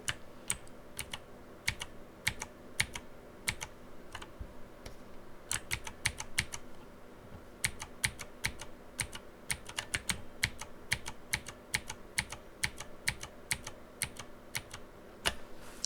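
A computer keyboard is pressed repeatedly for the Ctrl+Alt+Z shortcut, producing sharp, close key clicks in quick, irregular bursts over a quiet background, with no talking.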